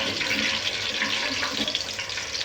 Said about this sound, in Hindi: इसको थोड़ी देर हमने इलायचियों को ऑयल में फ्राई करना है